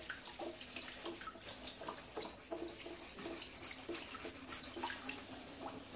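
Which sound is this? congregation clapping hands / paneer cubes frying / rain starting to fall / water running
water running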